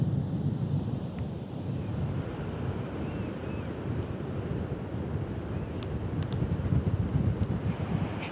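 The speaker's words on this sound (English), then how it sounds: "You've probably noticed during this video how windy it is." Strong wind buffets the microphone at a beach campsite on Fire Island National Seashore, a continuous rumbling roar mixed with distant surf, steady and moderately loud throughout with no talking.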